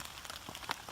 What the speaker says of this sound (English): Even in the rain.